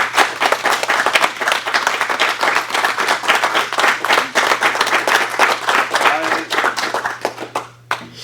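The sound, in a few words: audience applause for Pepper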